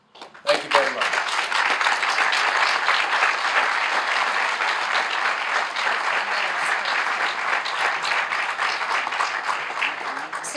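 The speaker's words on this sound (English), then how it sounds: "So you should give yourselves all a big round of applause." Sustained audience applause at the groundbreaking ceremony for the Lowell Justice Center, a dense wash of many hands clapping that starts abruptly and holds steady and loud for about ten seconds.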